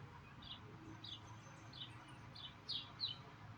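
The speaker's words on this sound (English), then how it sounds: "I'm stepping outside to hear the birds sing" Small birds chirp outdoors in short, faint tweets at a distance, spaced every half second or so over a low, steady background rumble.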